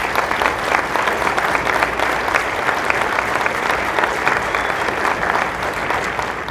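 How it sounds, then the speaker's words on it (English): Award recipients at a gala get a sustained, dense round of applause from a large crowd, loud and even from start to finish. "let's give this entire group a big round of applause"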